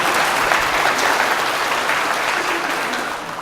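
A church congregation applauds loudly and steadily, a dense wash of clapping from many hands that fades slightly toward the end.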